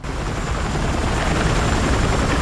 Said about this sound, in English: I was able to hold out until the chopper came.